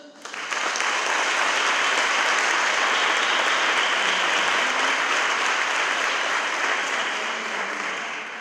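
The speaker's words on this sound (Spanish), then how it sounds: "Un fortísimo aplauso" An audience claps loudly and continuously for several seconds after a Passion play act in Benalmádena. The dense, sustained applause rises quickly and holds steady before easing slightly at the end.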